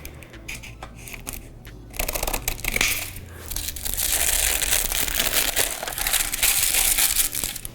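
Paper being cut with scissors while testing a household life hack, a close, steady crisp crunching and rustling that grows louder and denser after the first couple of seconds, with no talking.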